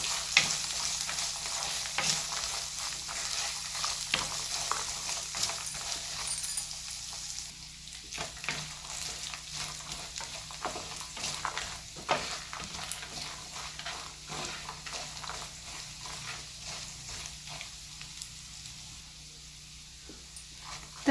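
Finely chopped coconut fries with garlic in a pan for egg kurma, a long, quiet, steady sizzle with scattered crackles and occasional stirring scrapes, no voices.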